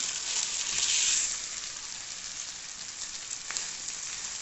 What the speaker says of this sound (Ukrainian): Тепер всипаємо наші макарони,